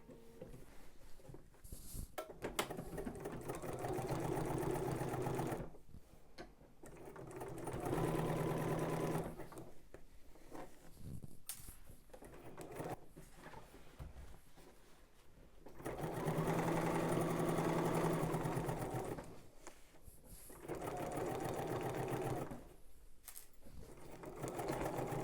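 A sewing machine hums through several rapid stitching runs while a pocket is sewn closed, the close mechanical whir starting and stopping with short quiet gaps between bursts.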